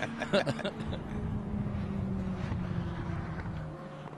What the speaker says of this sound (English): And the Minis, here they come to finish off their race.